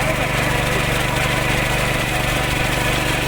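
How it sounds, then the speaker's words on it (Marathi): Tractor ploughing a rice paddy field at Kumbhavade, Rajapur, a steady loud engine drone with a throbbing low hum running unbroken throughout. "ट्रॅक्टरवर आता कशी नांगरणी करतो बरोबर."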